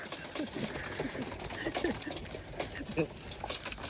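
Racing pigeons coo softly in a loft, their low repeated calls scattered under steady background noise and a bit of nearby talk, faint and fairly close.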